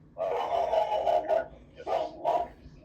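A dog barks in two bursts, the first a sustained run of loud close barks, then after a pause a shorter pair of barks, with no other sound between.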